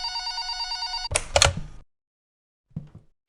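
Telephone ringing in the puzzle video game Do Not Press The Button: a repeating electronic bell tone for about a second, then a loud clatter as the handset is picked up, silence, and a brief soft sound near the end.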